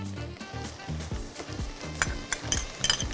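Garlic sizzling in hot oil while being stirred for a shrimp bisque, with a steady frying hiss and repeated scraping and clinking of a utensil against the pan, close-up without speech.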